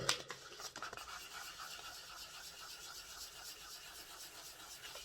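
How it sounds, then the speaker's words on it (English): Sandpaper scraping moulding flash off the small plastic gears of a Lima Class J50 model locomotive, a faint, continuous rasp that opens with a few louder scratchy strokes. "We shall file these little bits of moulding down."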